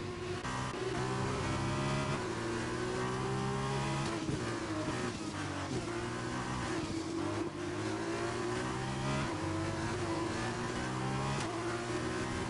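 Formula race cars in a racing video game at Imola run nose to tail, their engines a continuous loud high-pitched whine with layered overlapping revs and gear shifts.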